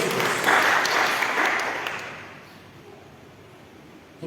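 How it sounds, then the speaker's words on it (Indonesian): A church congregation at a Sunday worship service applauds in a full burst of clapping that fades away over a few seconds and leaves a quiet room. "Tepuk tangan untuk Tuhan Yesus Kristus."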